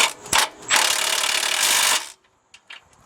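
A Milwaukee 3/8-inch stubby cordless ratchet spins a sway bar link nut loose on a Honda Element, giving a short whirring burst after a few clicks, then a handful of light metallic taps once it stops.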